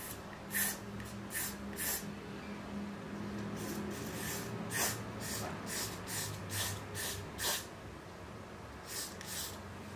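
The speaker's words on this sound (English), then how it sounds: "So I just point and spray." A rapid series of short, hissing aerosol bursts of Got2b Glue hair spray on a wig, close by, in an irregular rhythm over a low background hum.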